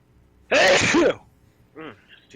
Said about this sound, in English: That's a very heartwarming sneeze.